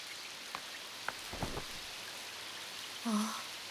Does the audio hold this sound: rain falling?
yes